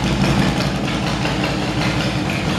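Deep, steady idle of a fuel-injected Harley-Davidson Heritage Softail with aftermarket pipes, a loud, close, continuous low rumble with no voices.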